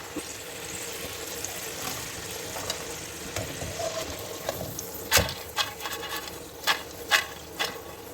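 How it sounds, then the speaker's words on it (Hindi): Peanuts fry in hot oil for homemade nimko, a steady close sizzle with occasional louder pops and scraping stirs toward the end. "अब मैं पीनट फ्राई करने लगी हूँ"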